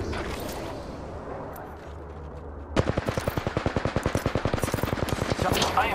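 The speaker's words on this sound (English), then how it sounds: "I am taking fire, friends." Video game gunfire: after a stretch of muffled background noise, a sharp automatic burst of rapid, evenly spaced shots starts and rattles on steadily to the end, loud and close.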